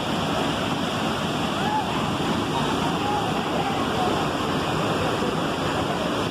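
Strong waterfall at Presidente Figueiredo in Amazonas, a steady loud roar of rushing, splashing water filling the whole scene without a break, close and dense like heavy surf.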